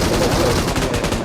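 A grenade goes off in an online shooter game amid a dense, loud wash of gunfire and blast noise, sustained rumbling bursts filling the short moment with no talk over it.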